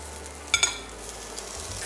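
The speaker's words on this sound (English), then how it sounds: "the veg, a sort of searing with olive oil" Carrots and other vegetables searing in olive oil in a pan, a soft continuous sizzle close by with a couple of brief clinks or stirring knocks near the start.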